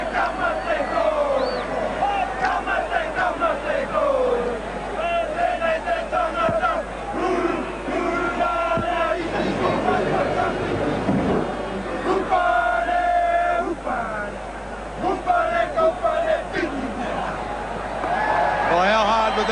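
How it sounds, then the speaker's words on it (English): The New Zealand rugby league side performs the haka at the 1986 Test against Australia. Rhythmic chanted shouts and calls carry over a stadium crowd, with a commentator talking throughout. "the New Zealand side, glorious in defeat with a haka"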